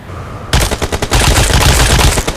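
Video game gunfire erupts after a brief quiet moment: a loud, rapid burst of automatic shots follows a couple of initial cracks and keeps firing steadily to the end.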